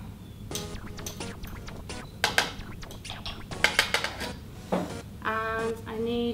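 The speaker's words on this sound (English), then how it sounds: "I need a teaspoon to scrape it off" A metal teaspoon scraping and clinking against a container to get food colouring out while making red velvet cupcakes, a series of irregular sharp scrapes and taps of moderate loudness.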